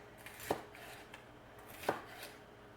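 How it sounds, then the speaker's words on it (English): A knife cuts stuffed peppers into strips on a cutting board, giving two distinct, close chopping thuds about a second and a half apart against a quiet background. "Now we want to cut them in strips"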